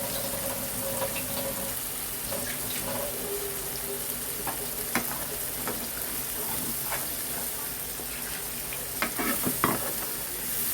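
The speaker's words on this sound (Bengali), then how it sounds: "এটাকে আমি ভালো করে এখন কষে নেব।" Ground prawn masala paste thinned with a little water fries and is stirred in a pan for chingri macher muitha, a steady close sizzle with frequent scraping and clinking strokes throughout, one cluster of louder knocks toward the end.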